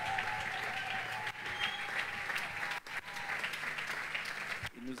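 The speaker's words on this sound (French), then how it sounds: "on acclame très fort le Seigneur" A church congregation at a consecration and installation ceremony applauds and cheers loudly and continuously to acclaim the Lord, a dense wall of clapping with brief dips and speech faintly mixed in.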